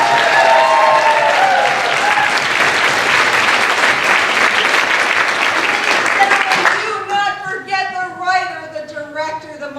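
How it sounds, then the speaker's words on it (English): A theatre audience at a community stage production of Snow White applauds loudly and steadily for about seven seconds. The clapping then thins out as a voice and other sounds take over. "Big round of applause, Brandy Mack."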